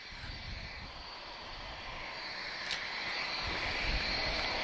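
A Boeing 757 airliner arriving at Lisbon Airport, its engines a steady, broad roar that swells slightly louder toward the end, heard from a distance with no voices.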